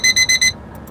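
An alarm going off indoors gives four loud, shrill electronic beeps in a fast even rhythm, then cuts out, leaving a quiet room hum with no speech.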